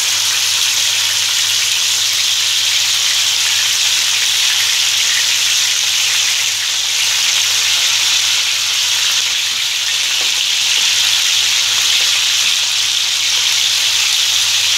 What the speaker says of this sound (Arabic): الزيت بتاعي بقى سخن معايا، واحده واحده كده ننزل باللحمه